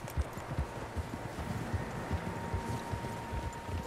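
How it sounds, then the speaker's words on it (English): Several horses' hooves clip-clop steadily in an irregular overlapping rhythm over a soft background hum, with no talking, in the video game Red Dead Redemption 2. "Horses, quite a few of them."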